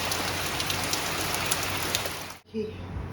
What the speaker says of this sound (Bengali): দেখুন কেমন বৃষ্টি, কাজের ফাঁকে একটু দাঁড়িয়ে দাঁড়িয়ে দেখছি।